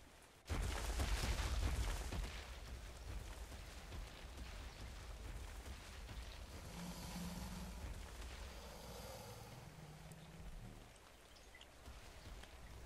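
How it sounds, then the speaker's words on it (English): Steady rain hiss in the game ARK: Survival of the Fittest, with a deep low rumble starting suddenly and continuing throughout, plus faint tonal sound effects midway. "The rain stopped anyway. No, it didn't."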